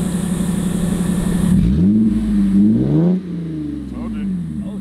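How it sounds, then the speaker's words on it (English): A 1998 Lexus GS300 with its 2JZ engine and a new exhaust revs slowly, the pitch climbing and falling in a couple of smooth sweeps before settling to a lower idle, close by, with people talking over it. "just slowly rev it."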